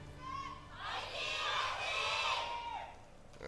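An esports arena crowd of Rogue fans cheering at an Overwatch match: a dense, swelling roar of shouts and whoops that builds, holds for a couple of seconds and then eases off, with voices mixed in.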